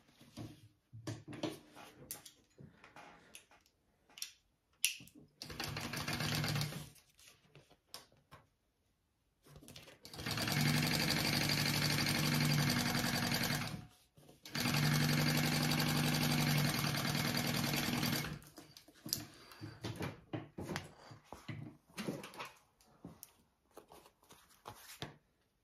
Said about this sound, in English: Right sides together, and I'm going to stitch those together at my seam allowance.